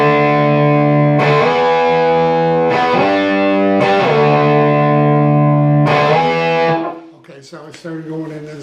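Distorted electric guitar playing chords, loud sustained strummed chords changing every second or two, then fading into quieter picked notes near the end.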